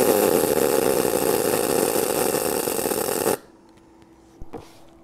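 An Eastwood MP200i welder spot welding 20 gauge steel: a loud, steady crackling buzz held for over three seconds, then cutting off abruptly, leaving quiet hum and a small clank.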